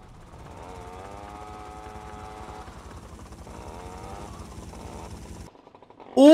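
Helicopter in the GTA Vice City video game, a steady whirring rotor drone holding at moderate loudness for about five seconds before dropping away, followed by a sudden loud burst at the end.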